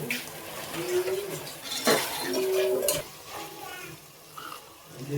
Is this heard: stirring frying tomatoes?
yes